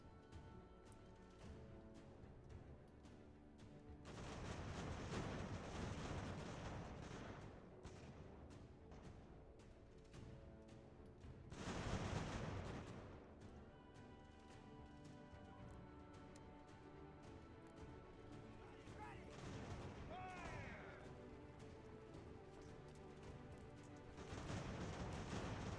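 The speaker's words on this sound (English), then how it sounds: "let's tell the cannon to fire on them" Cannon artillery fire from the game Ultimate General: American Revolution, with a few heavy booming blasts spaced several seconds apart rising loud over a steady musical background, and no voices.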